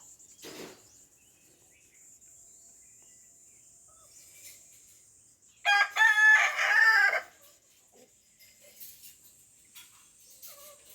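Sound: rooster crowing at a village house in Konkan

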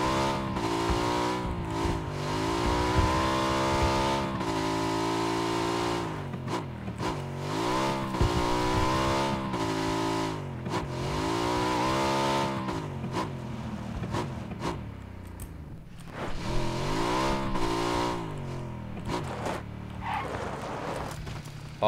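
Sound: car engine revving in video game PUBG

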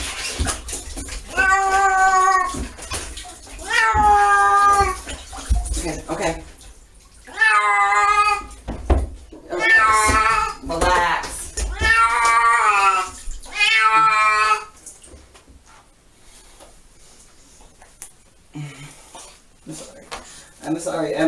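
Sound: cat yowling while being bathed

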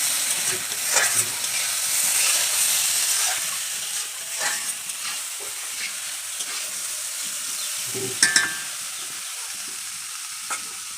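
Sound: small fish frying, stirred with turmeric powder and salt

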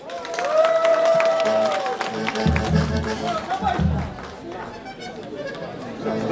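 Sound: audience applause for a folk band

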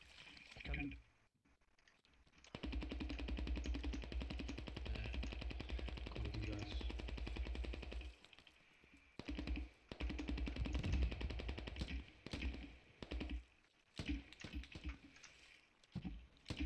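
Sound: machine gun fire in the video game Squad

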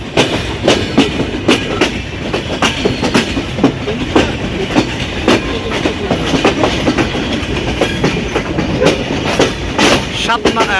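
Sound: Banalata Express train pulling into platform

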